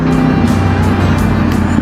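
A motorbike ridden through Karachi traffic on the way to PC Hotel, its engine droning steadily and loudly close by, with surrounding road noise.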